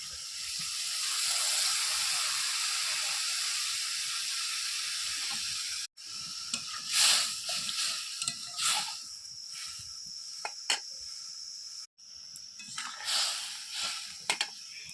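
Water poured into a hot pan for a home-style fish curry, giving a loud, sustained hiss of sizzling that settles into intermittent crackles and bubbling pops, close by.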